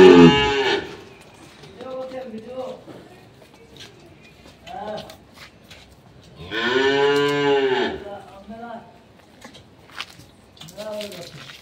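A dairy cow moos repeatedly, long drawn-out calls close by, as its calf is let loose; shorter bleats and calls break the quieter gaps between the louder moos.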